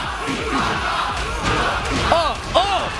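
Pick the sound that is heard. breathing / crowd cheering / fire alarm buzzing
crowd cheering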